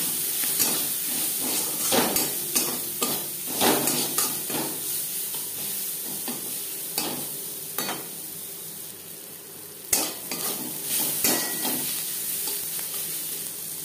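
Onions frying in a pan for a rui fish and eggplant curry, a continuous close sizzle with repeated scraping strokes and clinks of a spatula stirring throughout, no one speaking.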